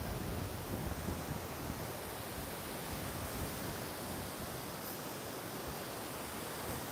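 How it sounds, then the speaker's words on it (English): Steady wind roaring through woodland, a dense continuous rush with no gaps, fairly loud and close with some buffeting on the microphone. "That wind's getting up."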